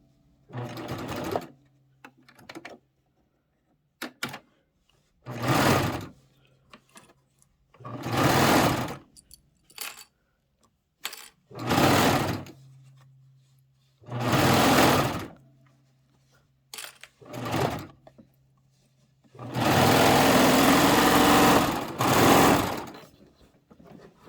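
A serger overlocker finishing a pillow back whirs in repeated bursts of a few seconds each, separated by quiet pauses, with a longer continuous run near the end.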